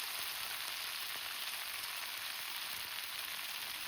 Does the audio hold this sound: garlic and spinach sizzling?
yes